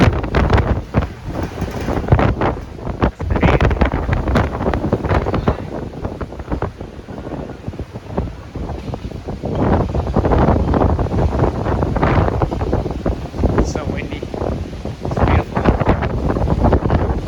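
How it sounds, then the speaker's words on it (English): Strong wind buffets the open deck of a Royal Princess cruise ship sailing in Alaska, roaring and gusting loudly against the microphone without letup, with a faint wash of the sea beneath. "It's very windy."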